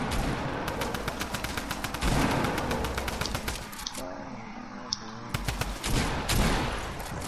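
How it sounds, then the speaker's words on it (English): A pump shotgun fired over and over in a video game, a fast run of sharp loud blasts with a brief lull in the middle, under a voice talking. "This kid finds a way to spam a pump shotgun"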